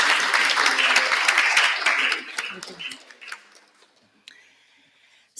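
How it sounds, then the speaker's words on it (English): Audience applause at a climate side event on including youth and Indigenous Peoples, honoring a deputy director; dense clapping fills the room for about two seconds, then thins and fades into scattered claps and a quiet room. "I'd like to give another round of applause to our Deputy Director."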